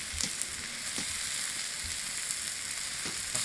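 Spices frying in hot oil in a pan for a poori aloo sabzi curry, giving a steady, close sizzle with faint stirring clicks and no talk.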